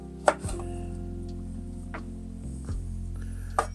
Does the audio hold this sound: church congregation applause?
no